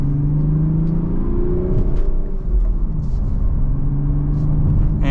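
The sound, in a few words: 2025 BMW Z4 M40i manual car accelerating in second gear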